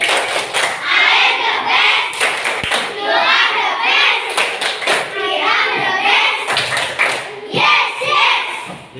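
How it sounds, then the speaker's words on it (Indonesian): A group of children in a school classroom claps out the rhythmic 'tepuk the best' cheer, with bursts of patterned clapping and thuds mixed with lively chanting voices throughout. "Tepuk the best yang dulu buat kita semuanya"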